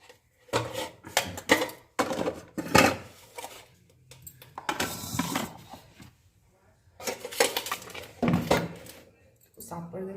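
Dishes and pots being washed in a home kitchen: bursts of clattering metal and crockery, splashing and clinking, loud and near, with short quiet gaps between.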